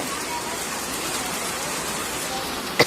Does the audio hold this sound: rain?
yes